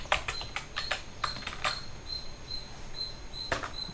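Quick irregular clicks of fingers typing on a computer keyboard at a Linux terminal, several bursts of close keystrokes with a brief pause in the middle, no talking.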